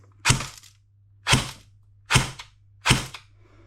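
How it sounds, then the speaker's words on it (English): Upgraded JG MP5 airsoft gun fired on semi-auto, four sharp evenly spaced cracking shots about a second apart with a faint motor whir, close and alone. "What does it sound like on semi?"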